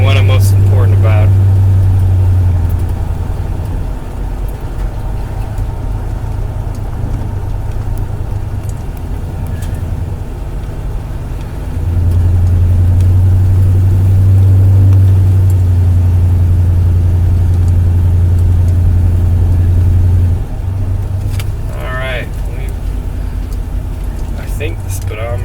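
A 1972 GMC Sierra Grande pickup that sat nine years without an intake manifold drives along with a loud, steady low engine drone that swells and eases, while people talk over it.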